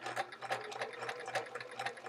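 A domestic sewing machine stitching quilt border segments in a continuous chain-piecing run, giving a steady, fast mechanical whirr with rhythmic needle clatter, close and fairly quiet.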